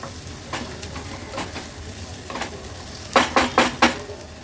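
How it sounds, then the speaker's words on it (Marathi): Ginger-garlic paste sautéing in a pan for a Maharashtrian Agri-Koli veg thali: a low, continuous sizzle with scattered spoon scrapes, ending in a quick run of four louder metallic clacks against the pan. "पेस्ट ॲड केल्यावर थोडंसं असं परतून घ्यायचं आहे, म्हणजे त्याचा कच्चा वास राहत नाही।"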